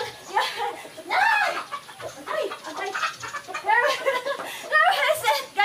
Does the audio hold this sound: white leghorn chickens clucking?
yes